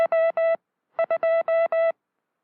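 Morse code sent on a properly adjusted telegraph key is heard as a clean sidetone. Crisp dits and dahs with even spacing fall in two groups separated by a short pause, loud and close, with no voices.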